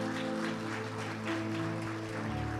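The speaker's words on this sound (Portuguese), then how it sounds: "dê um aplauso bem forte ao Senhor" Dense, steady applause from a church congregation praising the Lord, a continuous wash of many hands clapping over a sustained instrumental hum, no talk.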